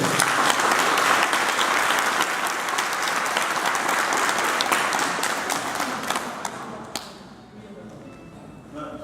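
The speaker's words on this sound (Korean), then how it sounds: "큰 박수 한번 보내드려요" Audience applause at a civic rally calling for a city football club, loud sustained clapping from a crowd that gradually thins and fades toward the end.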